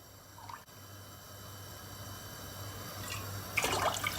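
Water is poured into a tarhana soup mixture, a soft continuous trickle and slosh that swells gradually, with a brief louder splash near the end.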